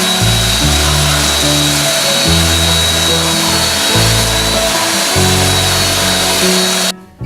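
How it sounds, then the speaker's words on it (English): Power sander working over the epoxy-coated hull of a catamaran, a loud close whine with pitch shifting in repeated steps as pressure changes, cutting off abruptly at the end. "Now the final sanding,"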